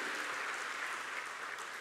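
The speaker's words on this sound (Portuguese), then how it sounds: "Dê um forte aplauso a Ele" A church congregation applauds in a faint, steady, even wash of clapping that lasts the whole moment.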